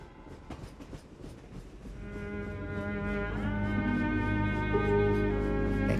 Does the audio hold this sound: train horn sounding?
yes